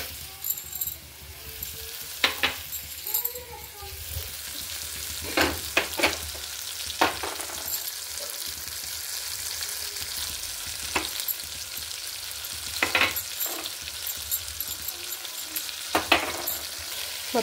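Vegetables tossed with ginger-garlic paste for veg biryani sizzle steadily in a pan, with a spoon scraping and stirring in repeated strokes over the continuous frying hiss.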